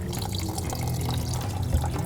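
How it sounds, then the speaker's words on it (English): A block of butter is washed under running tap water, with a steady, close splashing stream and no talk. "I'm going to wash this under running water"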